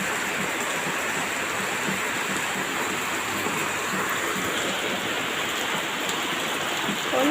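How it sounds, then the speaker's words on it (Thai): Steady, dense rain pours down in bright sunshine outdoors, a continuous broadband hiss of drops hitting surfaces with no pauses, fairly loud and close throughout. "โอ้ยฝนตกแดดออกพี่น้อง"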